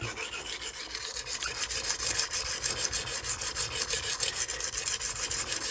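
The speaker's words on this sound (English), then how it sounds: "it's taking metal off there" Steady, close scraping of a steel Magnacut chef's knife on an oiled Norton Crystolon coarse silicon carbide stone, a continuous gritty rasp of repeated strokes without pause.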